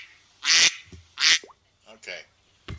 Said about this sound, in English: Let that duck out.